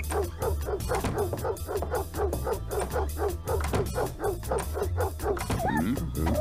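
Dog in the video game Hello Neighbor barking repeatedly after a dog whistle, a fast rhythmic run of close, loud yips and woofs, with a short whimpering whine near the end.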